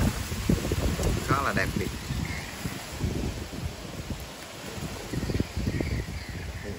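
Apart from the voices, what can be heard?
strong wind blowing into the microphone outdoors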